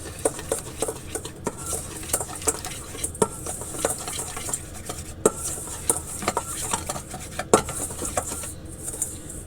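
A spoon scrapes and clinks against a bowl while a dry breadcrumb coating with herbs and olive oil is mixed, giving a quick irregular run of close stirring clatters with no talk.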